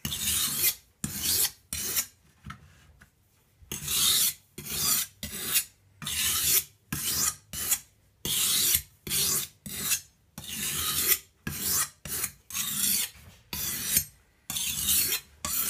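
A knife is drawn across a sharpening stone in repeated rasping strokes, each about a second long, separated by short pauses and keeping a fairly steady back-and-forth rhythm, close and loud, with no talking.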